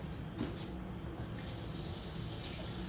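Hot water runs from a kitchen tap in a continuous, even gush that holds steady throughout.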